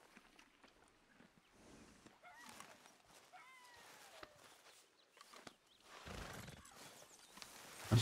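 A horse in Red Dead Redemption 2 whinnies faintly amid soft hoof clops and rustling, with a gust of noise toward the end.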